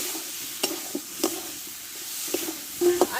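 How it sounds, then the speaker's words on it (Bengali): Potato and eggplant being stir-fried in spice paste in a pan, with a steady soft sizzle broken by sharp scraping clacks of the spatula at irregular intervals, a cluster of them near the end. "এবার কষে রাখা আলু বেগুনটা আমি এতে দিয়ে দেবো দিই একসঙ্গে ভালো করে কষে নেবো"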